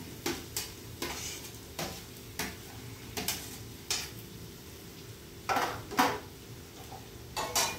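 Finely chopped onion is stirred in a pan over ginger, garlic and green chili paste while cooking a snake gourd vegetable dish, with a soft sizzle under repeated sharp scrapes and clinks of a spoon against the pan at a steady, unhurried pace.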